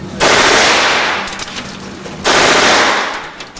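Two long bursts of fully automatic 9mm gunfire at a shooting range, each a loud, dense roar of rapid shots lasting about a second and a half, separated by a short pause.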